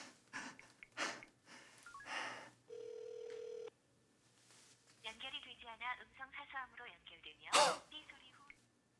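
A telephone gives a single steady electronic call tone lasting about a second as a call fails to connect, set between close, quiet speech and breathy vocal sounds in a Korean TV drama scene.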